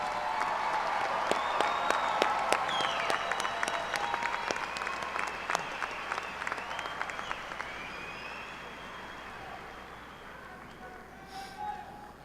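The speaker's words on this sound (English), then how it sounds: "One more round of applause." A large commencement audience applauds the spring graduates with sustained clapping and a few sharp individual claps standing out, fading gradually to quiet near the end.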